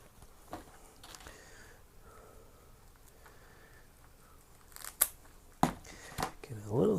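Scissors snip through the roots of a Dracula vampira orchid during repotting, a few sharp close clicks and cuts amid quiet rustling of the plant material.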